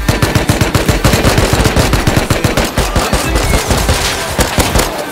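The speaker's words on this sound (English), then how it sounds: "Dude, I was getting shot." Rapid, dense automatic gunfire in the survival video game Rust, loud and close, with bursts of shots crackling continuously for several seconds.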